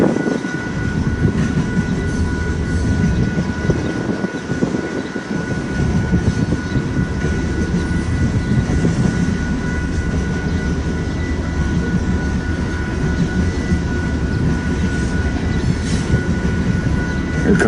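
A freight train rolls past with a rear DPU locomotive pushing, a loud continuous rumble of wheels and engine with rattling cars, close and sustained throughout.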